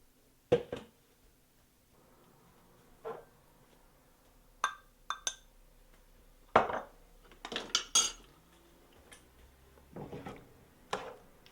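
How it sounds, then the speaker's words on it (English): A spoon clinks and scrapes in a pot of leftover honey syrup while peaches are being preserved. The sharp metallic taps come in scattered bursts with quiet gaps between them, fairly close and without speech. "Stir that honey in so it's all mixed."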